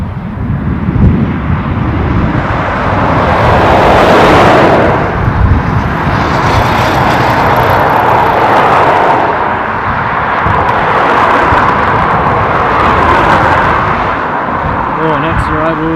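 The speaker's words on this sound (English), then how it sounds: "It's an Airbus A330 Aer Lingus Shamrock delivery from San Francisco in the United States of America" Aer Lingus Airbus A330 "Shamrock" arriving from San Francisco at Dublin airport, a loud, continuous broadband jet roar that swells and fades over many seconds, with voices in the background.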